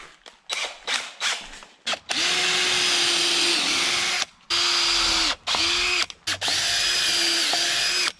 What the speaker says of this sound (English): this is the drill that we've been using to drill those out.